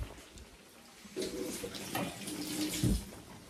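Water runs briefly from a kitchen tap while pasta dough is being made, a soft, fairly faint splashing stream that starts about a second in and continues with slight gurgles.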